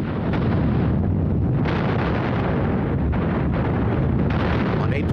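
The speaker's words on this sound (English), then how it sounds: "it unleashed its opening barrage on Berlin and advanced towards the city" Dense rumbling barrage of distant artillery fire, continuous low booms and blasts blending into a roar, evoking the Red Army's 1945 assault on Berlin.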